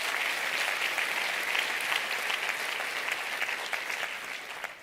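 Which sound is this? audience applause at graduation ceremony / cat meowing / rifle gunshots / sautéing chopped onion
audience applause at graduation ceremony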